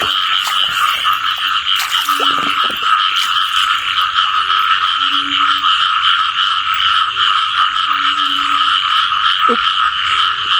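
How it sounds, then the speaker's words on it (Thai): Large frogs croak during a heavy first rain in a rural Thai village. A dense, loud chorus carries over steady rain noise, with deeper individual croaks coming through at intervals. "โอ้กบใหญ่ครับ"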